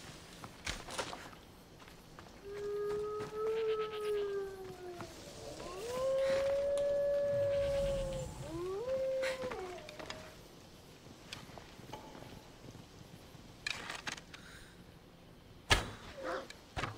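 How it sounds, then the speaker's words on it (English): Dog howling and whimpering in Assassin's Creed Odyssey: several drawn-out, wavering howls rise and fall in the middle, with softer whines and scattered game thuds and footsteps around them, and no talking. "Come here, doggy. You're dead, dog."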